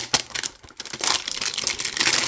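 A damaged 2023 Select trading card hanger box is cut open, giving close, crinkly bursts of crackling cardboard and plastic that grow denser and more continuous after the first second.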